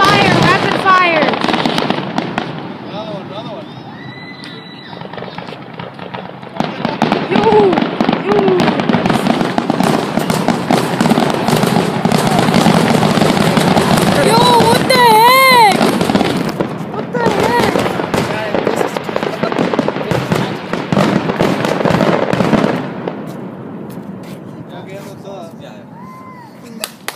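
Fourth of July fireworks explode in dense rapid-fire volleys of crackling bangs and whistles, loud and sustained for over twenty seconds, with people talking and cheering underneath.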